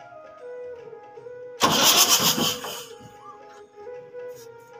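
A Swaraj 855 tractor engine cranks over after its cylinder head is refitted, a loud burst of turning and firing lasting about a second and a half, then settling back to a steady low hum.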